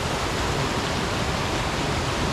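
Water flows steadily at a campground, a loud, dense and even rush with no pauses or voices.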